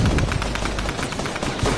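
Rapid automatic gunfire in Fortnite, a dense unbroken rattle of shots that stays loud and close for the whole stretch, with no talking over it.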